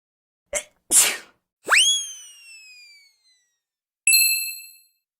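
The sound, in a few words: cartoon character sneezing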